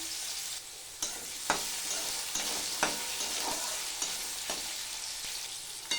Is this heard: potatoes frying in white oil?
yes